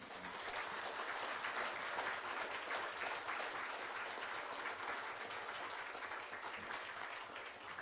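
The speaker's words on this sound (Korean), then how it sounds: "큰 박수로 예, 모시겠습니다." A church congregation bursts into loud, sustained applause to welcome a visiting pastor, steady dense clapping filling the room from start to finish with no break.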